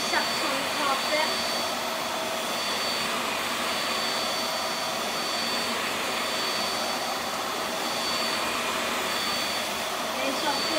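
A VAX Air Stretch Pet Max upright vacuum cleaner runs steadily on carpet, a loud continuous motor whoosh and airflow roar that holds level throughout with no talking.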